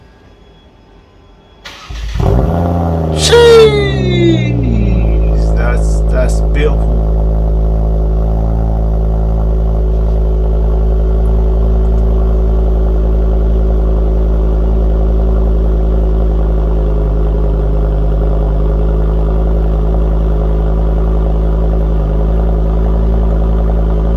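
Ford Focus ST engine cranks and catches on a cold start with a sharp rising rev flare, then settles into a steady, loud, droning idle that runs on evenly; a person briefly speaks over it near the start.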